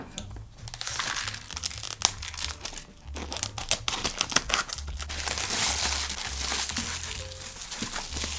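Crinkly plastic wrapping of an instant noodle package being torn and pulled open, with continuous close crackling, several sharp rips and rustling handling throughout, no talking.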